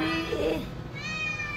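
A kitten meows close up, a single rising cry in the first half followed by a thinner, higher drawn-out mew, with a little background noise.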